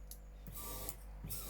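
Electric fuel pump run on 12 volts while pumping fuel, a faint, steady mechanical whir with slight ticking and creaking, close by and quiet, no talk.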